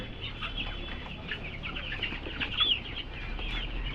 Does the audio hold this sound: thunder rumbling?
no